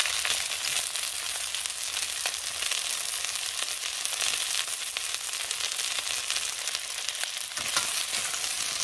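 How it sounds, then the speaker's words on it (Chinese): Taro pieces fry in a pan for rice with pork ribs, giving a steady, fairly quiet hiss and crackle of oil that holds evenly throughout with no talking. "嗱，啲芋头煎一煎"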